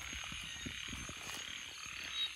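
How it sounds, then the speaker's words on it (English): A chorus of frogs croaks raucously at a swampy pond in Thailand, steady overlapping calls and clicks rising from a faint but constant background drone. "Came out to check out this pond where you can hear all these raucous frogs"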